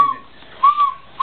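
A little girl whistling, giving a short high note, then a pause, then a longer wavering tone and a brief final chirp, close and clear with no talking.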